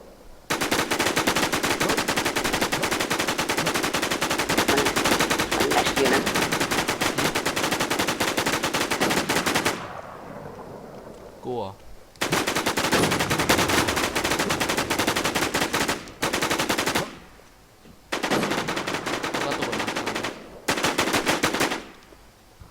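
Rapid automatic gunfire in a video game, long loud continuous bursts of machine-gun fire broken by brief pauses, with a quieter gap in the middle and no talk.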